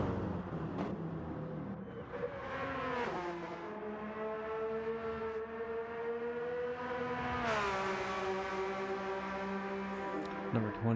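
Race cars lapping the Nürburgring in a sim racing video game, with a loud, continuous engine whine that rises and falls through gear changes and overlapping car engines.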